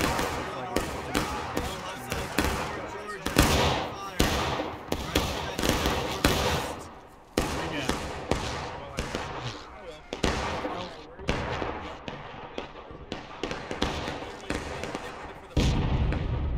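Musket volley fire in the Civil War game War of Rights, a dense run of sharp, loud reports and thuds cracking out repeatedly over about sixteen seconds amid battle noise.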